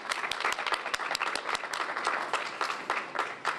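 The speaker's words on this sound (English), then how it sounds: "we will do a round of applause" A crowd claps for the university president during HBCU Week 2012 at the University of Arkansas at Pine Bluff, with dense and lively applause holding at a fairly loud, even level from start to finish.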